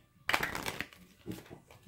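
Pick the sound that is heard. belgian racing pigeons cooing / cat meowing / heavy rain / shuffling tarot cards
shuffling tarot cards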